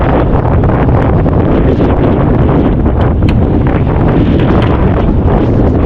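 Strong monsoon wind buffets the microphone in a constant loud roar and rumble, with gusty rustling throughout and no voices.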